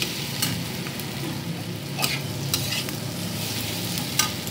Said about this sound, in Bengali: এবার গোলমরিচের গুঁড়ো দিয়ে এটাকে এখন নাড়বো